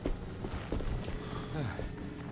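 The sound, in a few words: horse in the distance in Alone in the Dark video game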